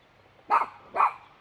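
A dog named Daisy gives two sharp barks about half a second apart, fairly close and clear, with no talk over them.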